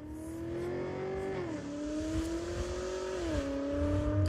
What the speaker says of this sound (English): and then we turn on the exhaust sound.